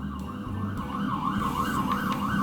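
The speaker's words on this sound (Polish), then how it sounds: "Karetka." An ambulance siren wailing in a rapid rising and falling pattern, fairly distant and steady, with traffic rumble underneath.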